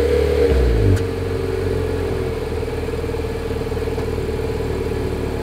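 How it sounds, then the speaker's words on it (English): A 2023 Nissan Altima engine revs up sharply and drops back, then settles into a steady, throaty exhaust idle that rumbles on evenly without any talking. "Here is that exhaust clip."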